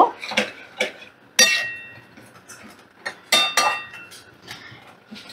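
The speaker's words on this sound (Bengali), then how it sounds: "ভালো করে চিনিটা মিশিয়ে দেব" A spoon stirs sugar into a dish in a metal cooking pot, making repeated close clinks and scrapes against the pot in an irregular rhythm, with no talking.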